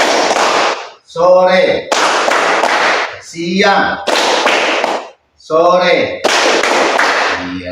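Children in an Indonesian classroom perform a clapping chant, with loud bursts of synchronized hand claps alternating with short sung phrases from their voices.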